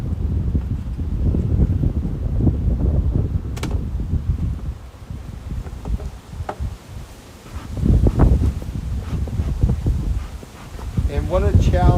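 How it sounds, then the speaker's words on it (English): Strong wind gusts buffeting the microphone outdoors at beehives being fitted with a flow hive super, heavy rumbling surges that ease and return, with rustling and handling sounds between. "And what a challenge it is with the wind."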